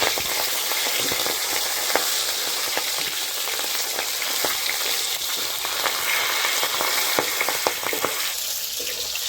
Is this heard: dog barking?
no